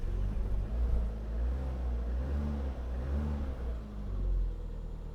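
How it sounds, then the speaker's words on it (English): A car engine with a suspected mass airflow fault runs under a little throttle with a low, steady rumble and faint ticking, heard close and continuous without speech. "So it'll tick now with a wee bit of throttle."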